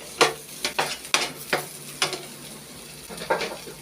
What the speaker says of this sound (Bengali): ডালটা নেড়ে চেড়ে ভালো করে একেবারে শুকিয়ে ঝরঝরা করে নিতে হবে।